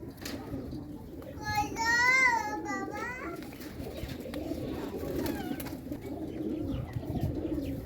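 Domestic pigeons coo softly nearby after being fed grain, low murmuring calls over a busy background, with people and children talking and a brief higher call rising in the middle.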